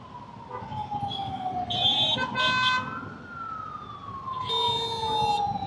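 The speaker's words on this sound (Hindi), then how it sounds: "वो एम्बुलेंस चिल्ला रहा है" An ambulance siren wails through Bangalore traffic, its rising and falling tone heard at moderate distance under a steady rumble of engines and road noise, with horns cutting in briefly.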